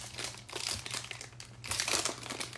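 Crinkling foil wrapper of a 2021-22 Contenders basketball trading card pack being opened, a steady close crackle and rustle with bursts of louder tearing and crumpling, no talking.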